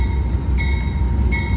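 Steady low rumble of a passing Amtrak P42 diesel locomotive in Savannah, Georgia, with rolling rail noise and a faint metallic whine, no voices.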